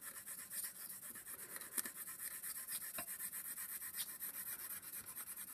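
A pencil shades brown sand into a drawing on paper with quiet, quick, rhythmic rubbing strokes close up and a few sharper taps, and no one speaks.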